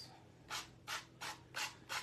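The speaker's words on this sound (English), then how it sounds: "Hit it after the fact with the nail file after the sanding block has done most of the work for you." A nail file rubs along a rough notebook edge already sanded with 80-grit paper, giving four or five quick rasping strokes in an even rhythm, close and fairly soft, with no talking.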